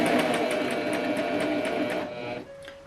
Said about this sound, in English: I'm going to start the stitch by just turning the hand wheel and forming the first stitch.